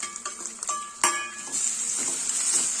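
Capsicum and tomato tossed into onion frying in a pan, giving a steady close sizzle with stirring scrapes and a few clinks of a spoon against the pan, with no talk.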